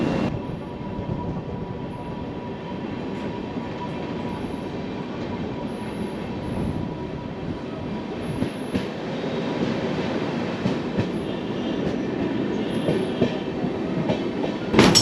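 The Doon Express (13009) runs through Darshan Nagar station short of Ayodhya Dham Junction, a continuous close rumble of wagons with clickety-clack beats and brief wheel squeals, swelling louder toward the end.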